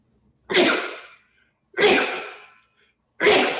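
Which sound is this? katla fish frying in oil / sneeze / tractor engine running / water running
sneeze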